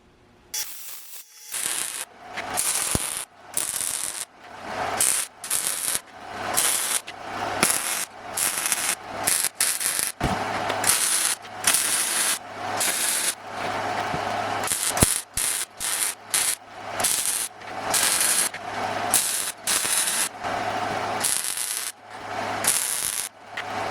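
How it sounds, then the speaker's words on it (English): A steel firewood basket for a BBQ grill smoker being welded out: a harsh crackling hiss comes in repeated bursts a second or two long, separated by brief pauses, close and fairly loud, with no speech. "Now we just got to weld her out."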